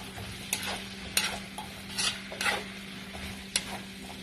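Potatoes are stirred in a hot pan over a soft sizzle of frying, with a handful of distinct scraping and clattering strokes at irregular intervals.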